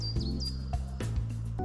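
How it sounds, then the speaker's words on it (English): Songbirds on Midhurst Common, among them European robin, great tit and Eurasian wren, give short chirps and a few high whistled notes, fairly near and clear over a quiet outdoor background. "Just listen to the birds singing."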